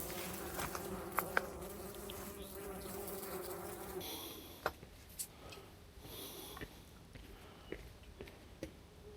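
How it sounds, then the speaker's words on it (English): Bees buzz faintly close by on a mountain hike at Mount Rogers, Virginia, a soft humming drone with a few passing buzzes and light clicks, no talking. "Here are all the bees. Here's one."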